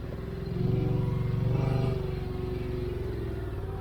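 A Yamaha Wolverine RMAX side-by-side cruising at around 5,000 rpm gives a steady droning engine hum that swells briefly in the first seconds, then holds at an even level without speech.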